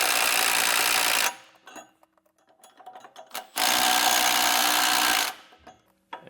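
A power tool runs in two loud, steady bursts of about a second and a half each, tightening nylock nuts onto carriage bolts while installing an air bag suspension kit, with quiet clicks and handling noises in between.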